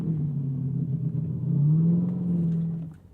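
Supercharged V8 of a 2011 Corvette C6 ZR1 idling and rumbling, then rising in a short rev before settling back down, close and steady with no talk.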